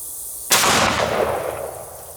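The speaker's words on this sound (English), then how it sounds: "So now we're going to shoot the dumpster with a 500 Magnum." A single loud gunshot from a Smith & Wesson 500 Magnum Performance Center revolver with a 10.5-inch barrel firing a 500-grain flat-point round into a metal dumpster outdoors, a sharp blast followed by a long, rolling decay.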